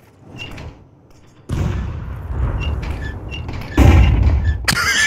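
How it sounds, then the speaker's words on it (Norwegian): A heavy door-like thud and rumble in Counter-Strike 2, followed by more loud impacts and booming noise, with no talking. "Slutt å fucke med døra"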